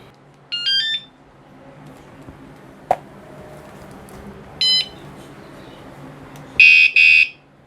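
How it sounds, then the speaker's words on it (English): A loud electronic bike alarm chirps in short bursts, a couple of brief beeps early on, then a longer piercing double blast at the end, with a sharp click between. "The alarm, and this bad boy is loud."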